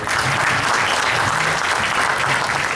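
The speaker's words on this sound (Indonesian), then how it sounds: "Beri tepuk tangan yang luar biasa sekali lagi buat Bapak Menko" A seated audience at a formal morning session claps in dense, continuous applause that holds loud and steady throughout, with no break and no voice rising above it.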